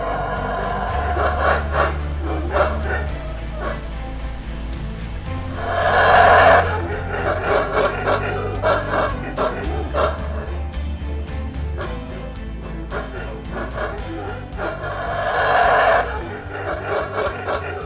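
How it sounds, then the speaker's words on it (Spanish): Howler monkeys howl in the Maya forest of Guatemala's Maya Biosphere Reserve, giving repeated rough, rising bursts of calls over a continuous low drone, with louder peaks near the middle and the end. "En estos momentos acabamos de localizar unos monos aulladores."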